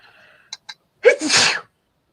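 A single sharp human sneeze, preceded by a couple of quick sharp intakes, sounds close and loud indoors, standing alone with quiet around it.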